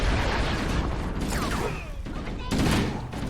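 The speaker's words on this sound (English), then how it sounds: "opening fire and tossing grenades above." Gunfire and grenade blasts in the Halo Combat Evolved video game, dense rapid bursts of shots with whooshing projectiles and a burst of explosive noise near the end.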